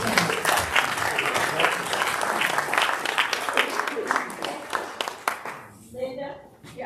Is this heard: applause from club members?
yes